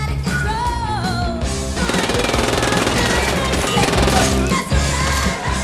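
Rapid bursts of gunfire crackle continuously over a dense, loud backdrop, with shots layered over one another like a chaotic shootout during a chase scene in a film.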